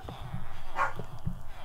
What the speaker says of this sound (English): sorry about the barking dog.